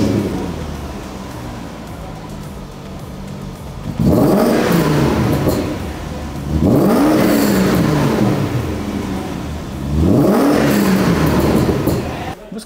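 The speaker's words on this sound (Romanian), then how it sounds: "hai să vedem acum cum se aude fără catalizatoare pe mașină." BMW 7 Series V-engine with catalytic converters removed, revved three times in long, loud surging bursts that rise and fall, close by, with idle rumble between revs.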